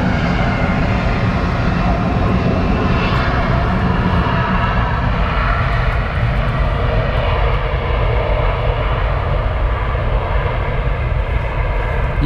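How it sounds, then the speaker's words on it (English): Steady, loud roar of Airbus A330 jet engines running continuously at an airport, a broad droning rumble with a high whine layered on top, no voices. "he doesn't like the sound of the A330's engines"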